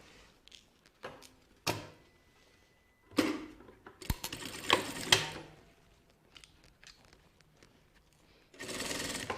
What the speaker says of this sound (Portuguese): E eu vou costurar ele por essa parte aqui que eu acabei de fechar.